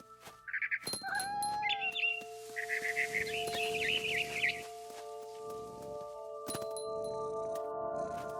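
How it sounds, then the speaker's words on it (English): Barn swallow in What Remains of Edith Finch chirps in short bursts of high calls near the start and middle, set over a sustained tonal music bed with sparse clinks. "Then I heard chirping outside my window. It was a barn swallow going back to her nest."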